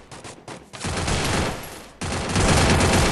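Gunfire in an online shooter video game, rapid bursts of automatic shots that swell into sustained loud firing and jump louder partway through, with no talk over it.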